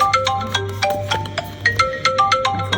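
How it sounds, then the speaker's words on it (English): A phone ringtone plays a repeating melodic pattern of bright electronic tones over a low steady hum, ringing several times in a row with no talking. "My phone's ringing back."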